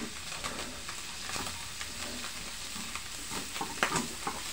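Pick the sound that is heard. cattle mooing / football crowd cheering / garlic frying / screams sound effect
garlic frying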